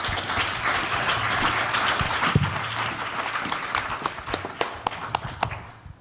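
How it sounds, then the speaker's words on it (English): Audience at a panel discussion on energy and a resilient future in Pittsburgh breaking into steady applause, a dense wash of clapping that thins toward the end into a few scattered, louder individual claps. "So a quick additional round of applause also for Christy"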